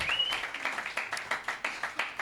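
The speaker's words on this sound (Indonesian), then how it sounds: "Tepuk tangan dulu dong" Scattered handclaps from a small group at a Christmas church service, uneven and moderately loud, with faint voices underneath.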